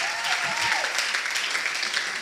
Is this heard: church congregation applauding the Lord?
yes